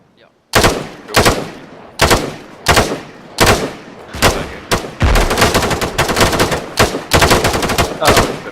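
A rifle fires three-round bursts during military training, giving loud, close bursts of rapid cracks spaced about a second apart and running nearly continuously later on.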